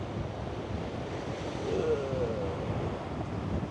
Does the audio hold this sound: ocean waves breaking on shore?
yes